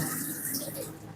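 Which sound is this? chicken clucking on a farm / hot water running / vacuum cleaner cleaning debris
hot water running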